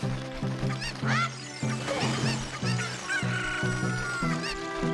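Chickens clucking and squawking repeatedly, fairly close, with short busy bursts over a steady game-like background, in Zelda: Ocarina of Time.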